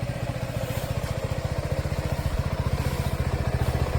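A Suzuki V-Strom SX motorcycle engine idles after a cold start, a steady, rapid thumping pulse heard up close and alone throughout.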